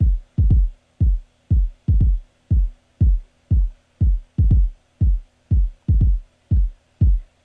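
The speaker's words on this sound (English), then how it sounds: "I have a four to the floor kick pattern here" A deep, punchy techno kick drum thumps in a steady four-to-the-floor pulse, about two hits per second, loud and alone, from a rescore of The Matrix Reloaded.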